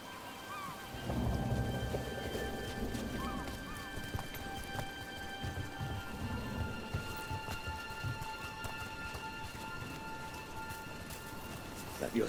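Steady rain in the video game Dragon Age: The Veilguard patters throughout with a low rumble, while a voice speaks over it and faint tonal game sounds ring in the background.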